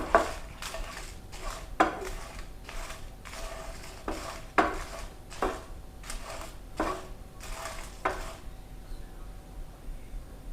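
Green chillies roasting in a pan for a spicy mushroom curry, with about ten sharp metallic scrapes and knocks of a spatula against the pan at uneven intervals over a low background hiss; no talking.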